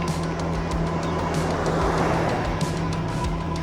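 A car approaching along the road toward a cyclist riding a new bike, a steady broadband rumble of tyres and engine swelling slightly as it nears, with wind noise throughout and no talking.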